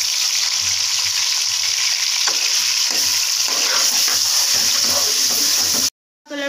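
Chicken fries in leftover oil in a pan for a karahi, a loud, dense, continuous sizzle with occasional stirring knocks, cutting out abruptly near the end; no talking.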